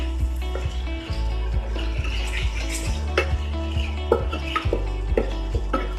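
A spoon scrapes and clinks in a pan, stirring boneless chicken pieces into curry gravy for a chicken handi, with a low steady hum and soft sizzle under the repeated metallic strokes.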